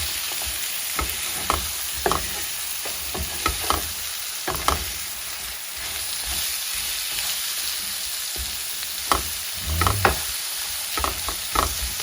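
Onions browning in olive oil in a pan sizzle with a steady hiss, while a utensil stirs them in repeated scraping strokes throughout.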